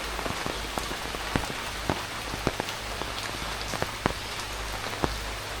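Heavy morning rain falls in a village, a constant close hiss broken by scattered sharp drips and taps striking a nearby surface.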